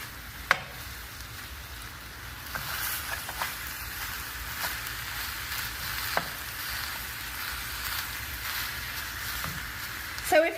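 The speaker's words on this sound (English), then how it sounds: "we're making fresh apple pie today, except we're making them in the skillet" Homemade fried apple pies cook in a skillet, giving a steady close sizzle and hiss of hot oil with scattered small pops and a few light clicks throughout.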